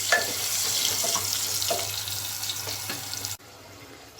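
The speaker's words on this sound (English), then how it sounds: "On medium flame I am frying these potatoes." A steady, close hiss of potatoes frying in a pan over medium flame, with occasional clinks, stopping abruptly near the end.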